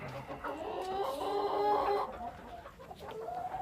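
A hen clucks repeatedly in a cold-weather coop, a run of close, fairly loud throaty clucks that carries through most of the stretch before easing into softer, intermittent calls.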